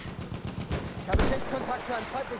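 Rifle fire in the video game Battlefield 1, a quick rattle of several shots followed by one loud, close report, with a person talking faintly underneath.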